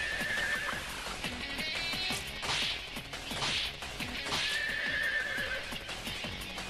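A horse in Digital Devil Saga 2 neighs loudly several times over rapid clip-clopping hooves, with sharp cracks mixed into the busy game soundscape.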